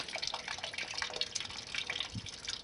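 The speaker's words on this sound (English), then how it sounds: "Draining the radiator." Antifreeze draining out of a Ford F150 radiator, a steady trickling, dripping liquid flow heard up close and continuing unbroken throughout.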